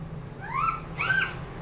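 A cartoon cat meows twice in the My Talking Angela video game, two rising, whiny calls about half a second apart over a steady low electronic hum.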